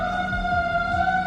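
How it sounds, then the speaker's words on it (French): A Montreal fire engine siren sounds from a distance outside as a steady, loud wailing tone, with a low rumbling pulse under it, and no voices. "ça c'est les pompiers de Montréal"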